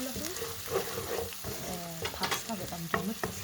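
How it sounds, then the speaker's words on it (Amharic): Garlic frying in oil in a pan for pasta sauce, a steady sizzle broken by the scrape and clatter of stirring, close and fairly loud, with no talking. "አብሮ ዘይቱ ነጭ ሽንኩርቱ እንደዚህ ይጠብሰዋል።"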